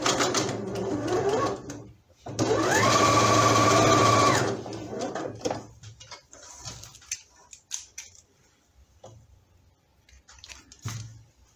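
Sewing machine stitching the lower part of a fabric doll's head, a strong close run of about two seconds after a first short burst, then quieter handling and scattered clicks.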